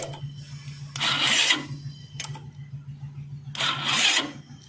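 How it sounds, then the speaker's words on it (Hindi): Motorcycle self-starter motor with the armature cover open, spinning the engine over in two short bursts of whirring, close by, over a steady low electrical hum. "देखिए देखिए आप प्रॉपर इंजन राउंड कर रहा है"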